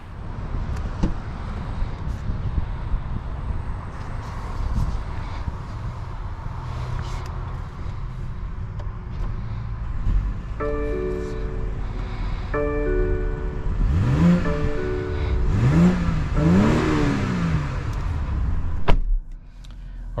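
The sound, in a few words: 2023 BMW X5 driving on a POV test drive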